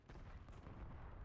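Shotgun fire in a first-person shooter video game, a dense, faint burst of booming blasts and rumble lasting about a second.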